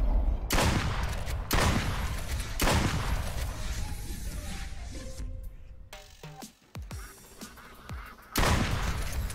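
Duck hunting video game with bursts of loud gunshots and honking ducks, the shots booming repeatedly over a busy background.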